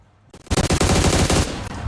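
Rapid automatic AUG assault rifle fire in the battle royale game PUBG, a loud, close burst of fast repeated shots starting after a brief quiet moment and running steadily to the end.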